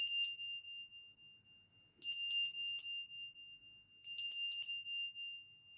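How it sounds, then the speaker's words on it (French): A small hand bell rung in three separate bursts about two seconds apart, each a bright tinkling jingle with a sustained high ring that fades out, heard clearly with no voices. "je vais commencer avec ma petite cloche 3 fois"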